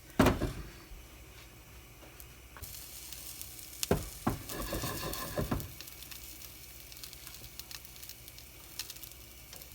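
Honey nut cornflake-coated chicken strips sizzle steadily in a frying pan, a soft continuous hiss broken by a few louder clunks and rustles as pieces are placed and shifted, with no talking.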